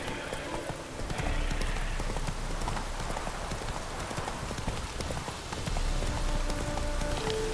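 Roach, the horse in The Witcher 3, gallops with quick, steady hoofbeats over a soft patter of rain, ending with a brief tonal chime.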